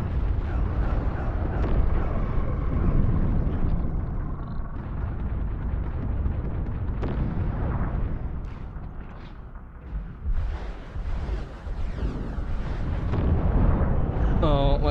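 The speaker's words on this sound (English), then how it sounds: "We got lots of time bombs." Time bombs detonate in the shooter game Overload, a dense, continuous wash of loud explosive booms and rumbling blasts that never lets up, with a voice speaking over the chaos.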